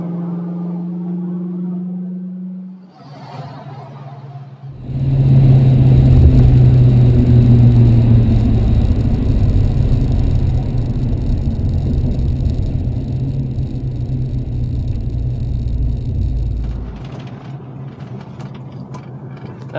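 A 1966 Ford Mustang coupe with a V-8 starts up with a low rumble, then a loud, steady engine roar holds close by for about twelve seconds before the revs drop back.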